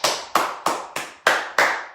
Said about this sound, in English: And then give yourselves a massive round of applause.